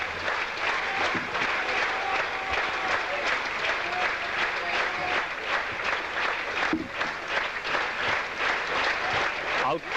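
Cricket crowd at a 1982 Sri Lanka v England Test match applauding a departing Sri Lankan batsman, steady dense clapping from a large gathering, with a commentator's voice faintly underneath.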